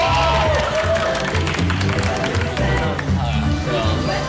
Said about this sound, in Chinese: 我们为她掌声鼓励一下